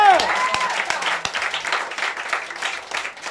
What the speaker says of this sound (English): Ladies and gentlemen, clap it up, clap it up.